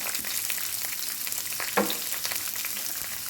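Curry leaves, shallots, garlic and crushed bird's eye chili sizzle in hot oil in a pan, a steady close frying hiss with one brief louder crackle midway and no talk.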